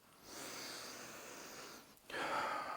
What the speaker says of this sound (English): Let's sniff it.